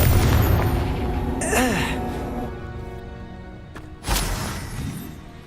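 A Confringo blasting spell going off in Hogwarts Legacy, a short burst followed a few seconds later by a second sharp boom that trails away, under a spoken game voice.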